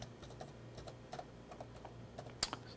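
Quiet, irregular taps and clicks of typing a caption note in Microsoft Edge come in short bursts over a faint hum, with no one speaking.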